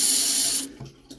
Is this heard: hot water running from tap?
yes